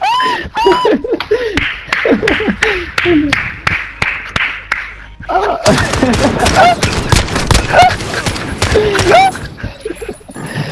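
Rapid bursts of gunfire from Call of Duty: Modern Warfare, sharp repeated shots in quick irregular volleys that grow denser, mixed with a voice talking over the action.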